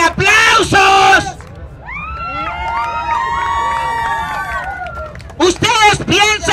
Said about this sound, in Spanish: ¿Ustedes piensan que con ese grito y ese aplauso vamos a hacer el ridículo?